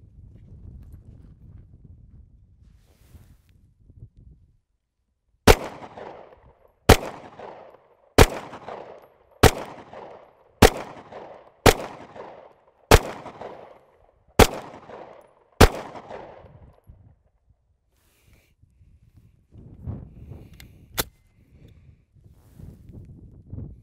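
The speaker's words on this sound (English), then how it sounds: "we're gonna put a couple downrange and show you a little bit about the Sig P320." A Sig Sauer P320 pistol fires downrange at an outdoor range: ten sharp, loud shots in a fairly even rhythm, each with a brief echo, followed after a pause by one more shot amid quiet handling noise.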